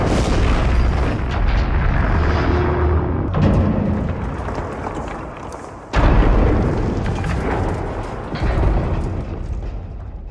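Deep booming explosions from a movie minefield scene roll through a dense, rumbling action soundtrack, with sharp blasts hitting twice midway and debris-like crackle trailing after.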